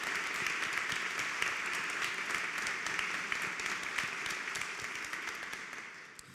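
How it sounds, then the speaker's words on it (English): Applause for the readers at a memorial service, a steady, fairly quiet wash of many hands clapping that carries on evenly for several seconds before starting to thin out. "can we give a round of applause for all of our readers this afternoon?"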